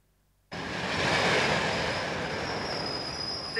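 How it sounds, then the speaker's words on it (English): A train pulls into Surbiton station with wheels squealing and a steady rolling roar. It starts abruptly and stays loud and close throughout, with no voices over it. "Surbiton, the train at platform 2 will call at Wimbledon and Waterloo only."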